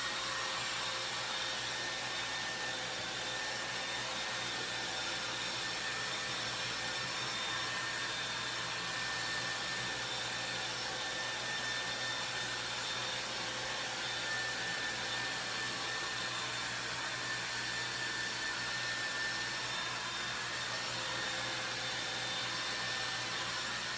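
A hair dryer blows on a buffalo plaid craft piece, producing a loud, continuous, even whoosh and motor whine that holds without a break for the whole stretch, with no talking.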